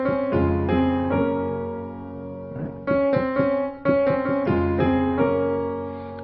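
A main melody plays with a harmonizing counter melody starting a third below it. Clear sustained pitched notes move in stepwise phrases with a brief pause midway, played alone without talk.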